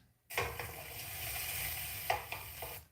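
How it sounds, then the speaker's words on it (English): Food sizzles steadily in a hot pan, a constant hissing crackle with a few clinks of a utensil stirring. "Gonna have to add some sizzle sound to this."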